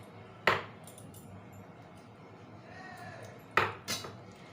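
A spoon clanks twice against a bowl while chicken kebab marinade is mixed. Between the knocks there is a soft, faint scraping in a quiet room.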